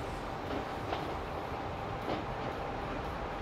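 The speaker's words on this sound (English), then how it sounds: "This is technically our metro currently." Metro train running on its line in the city-building transport game Transport Fever 2, a steady close rumble and rail hum with faint rhythmic clacks, no talking.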